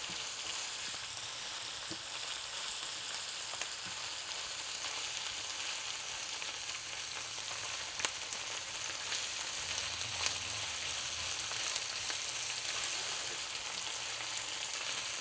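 Ingredients for Greek kayanas sizzling softly in a pan and being stirred, a continuous fine crackle held steady at low level with occasional light scrapes.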